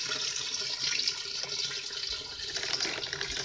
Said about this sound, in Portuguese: Vou aqui ligar a bomba, vamos ligar aqui a bomba então, para a gente ver tudo circulando